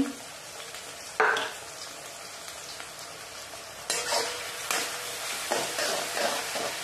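Vegetables, tomatoes among them, sauté in hot oil for Schezwan fried rice made from leftover rice, with a steady close sizzle, occasional stirring scrapes and a few louder clatters of the spoon in the pan.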